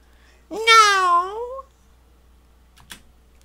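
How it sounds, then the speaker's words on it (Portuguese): A cat lets out one long, drawn-out yowl lasting about a second, close and clear, followed by a faint click in otherwise quiet surroundings. "Do berro, do berro que o gato deu"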